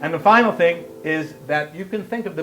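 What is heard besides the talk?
No distinct noise like a dog, phone or traffic.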